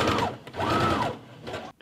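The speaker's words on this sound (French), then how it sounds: "On coud à 1 cm tout autour, évidemment on ne coud pas ici." A sewing machine stitches fabric for a baby romper in short mechanical bursts, a close whirring run, a pause, another longer run, then a brief final burst before stopping.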